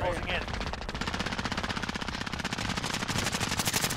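Rapid automatic gunfire in a battle royale shooter game, a steady fast rattle lasting throughout, fairly close, with game voice callouts mixed beneath.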